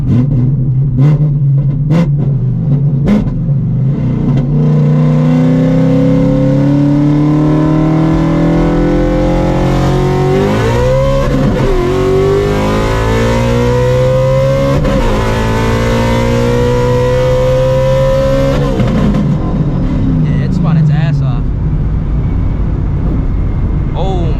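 A 900 hp Shelby GT350 engine revs hard in a second-gear pull, rising in pitch with a roaring exhaust, then drops off near the end.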